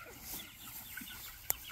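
Pastured chickens cluck softly outdoors, a few faint, scattered calls over quiet background noise.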